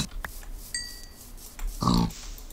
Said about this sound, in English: To get wood and kill these pigs because we need food.